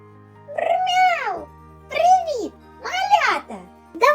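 A human voice imitating a cat in a children's learning game gives three drawn-out, rising-and-falling meows, close and clear, with short pauses between them.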